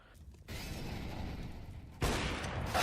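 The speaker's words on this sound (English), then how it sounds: "a grenade lands right on him" A grenade blast in CS:GO during a pro match, a sudden loud burst with a rumbling tail that quickly gives way to another burst of gunfire and noise.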